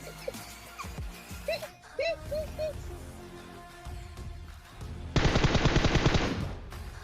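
Video game gunfire: scattered single shots early, then a sustained burst of rapid automatic fire near the end, loud and close, with speech and game sounds mixed in.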